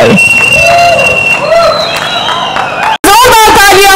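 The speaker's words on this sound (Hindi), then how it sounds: "जितनी तालियां, जितनी सीटियां यहाँ पर बज रही थी" Crowd applause, cheering and whistles at the Haseena Parkar trailer launch in Mumbai, a loud, dense roar with shrill whistles cutting through, briefly dropping out before surging back at full strength.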